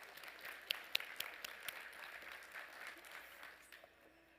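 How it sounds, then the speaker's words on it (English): A banquet audience applauds donors at a vegetarian dinner, a faint, distant patter of clapping with a few sharper individual claps standing out before it thins away. "Can we have a round of applause for them?"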